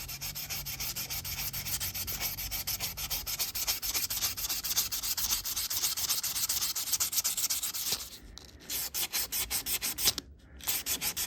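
Steady, fine rubbing hiss of 1500-grit sandpaper worked across stainless steel car trim in rapid back-and-forth strokes, continuous and close, with two brief pauses near the end.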